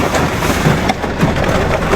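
Heavy typhoon rain pours steadily in a Philippine coastal area, a dense continuous wash of noise with a few soft low thumps, close and loud throughout.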